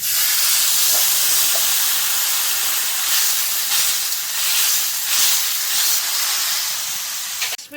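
Water poured into a hot pan of fish curry with greens hisses and steams loudly and steadily, with small surges of spray-like noise throughout and no voices.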